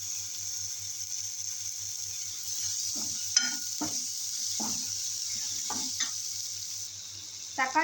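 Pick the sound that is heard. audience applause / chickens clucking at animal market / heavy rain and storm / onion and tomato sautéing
onion and tomato sautéing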